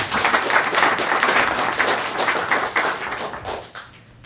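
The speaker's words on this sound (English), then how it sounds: "Please give them a round of applause." Applause from a school board meeting audience honoring the Teacher Assistants of the Year, a steady crowd of hands clapping at close range that thins out and fades toward the end.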